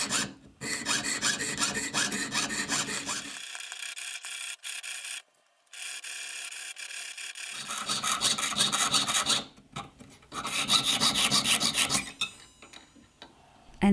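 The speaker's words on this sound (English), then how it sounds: "I will now mark and cut the oval in half with the jeweler's saw." A jeweler's saw cuts through a small metal oval cage piece, giving close, harsh rasping strokes in long runs, broken by a few seconds of silence before the sawing resumes.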